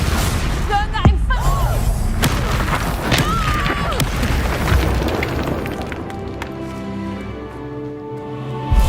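Confringo blasting spell detonating in a Harry Potter video game, a booming fiery explosion with crackling debris, mixed with other spell effects and a voice shouting incantations over it.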